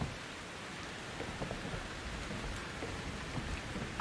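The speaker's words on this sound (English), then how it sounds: "the blood effects are fantastic here. Or not even the blood. I mean the rain" Steady rain in the Outlast 2 video game, a dense, even hiss of falling drops spreading across the whole clip at a constant moderate level, with no voices over it.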